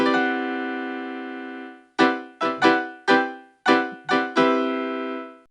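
A Lydian major 7 sharp 11 chord rings out as one dense, sustained voicing for about two seconds, then comes back as six or seven sharp repeated strikes, each fading quickly.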